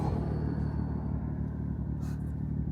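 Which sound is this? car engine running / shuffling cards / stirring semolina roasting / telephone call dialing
car engine running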